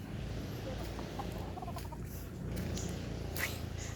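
Chickens cluck faintly in a busy outdoor setting, under constant background noise and some distant chatter.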